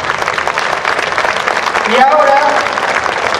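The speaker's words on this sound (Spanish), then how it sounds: "Y ya les pido un aplauso para ellos." An audience at a historical reenactment in Villena claps in a steady round of applause, with a voice speaking over it partway through.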